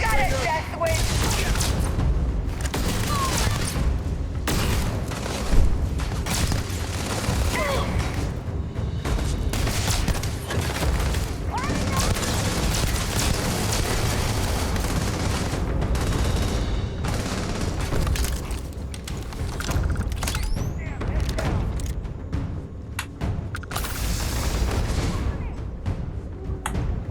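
Enemy gunfire in the space game Starfield, rapid volleys of shots and heavy thuds crackling continuously at close range, with occasional louder booms throughout the firefight.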